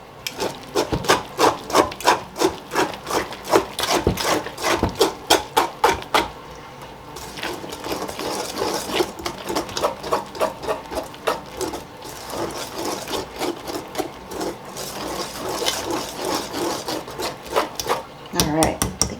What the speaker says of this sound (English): Whisk that in.